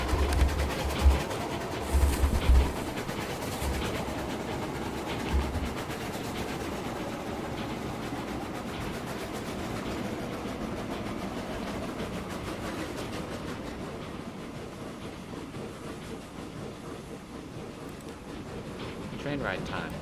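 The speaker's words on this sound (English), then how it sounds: "Train ride time." In the video game Transport Fever 2, a train rolls along steadily with a dense rumbling, clattering wash, and a few low thumps near the start, then eases slightly softer toward the end.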